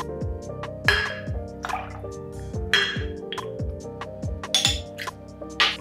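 Mango nectar and lime juice are poured into a cocktail shaker, with liquid splashing and trickling alongside sharp glassy clinks and knocks, all over steady background music.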